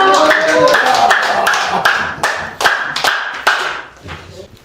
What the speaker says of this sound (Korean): 그 박수를 많이 쳐주시기 바랍니다